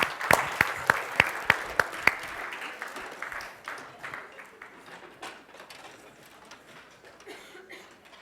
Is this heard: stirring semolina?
no